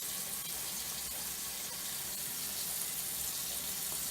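Tap water runs steadily as embroidery stabilizer is rinsed off, a soft continuous hiss and splash heard alone at low volume.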